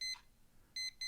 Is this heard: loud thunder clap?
no